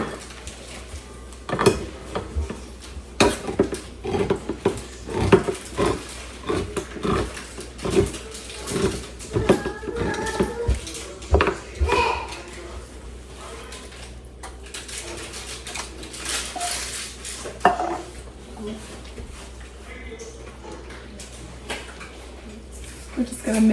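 Diced Rotel being mixed into a pot during meal prep, with irregular clinks and scrapes of a utensil against cookware, loud near knocks early that thin out later, while someone talks throughout.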